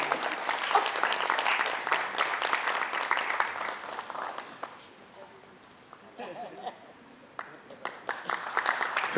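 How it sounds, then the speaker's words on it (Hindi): Audience at a cultural society stage event applauding loudly for several seconds, the clapping fading around the middle, then scattered claps and faint crowd noise returning. "जोरदार तालियां।"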